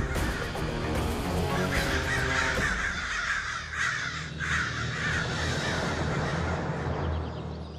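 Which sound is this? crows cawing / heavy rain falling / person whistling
crows cawing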